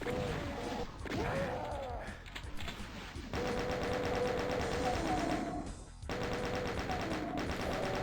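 A chaingunner enemy fires in Doom 2, sending rapid repeated gunshots through a dense, loud barrage of combat noise that runs almost without break, with a player's voice heard over it.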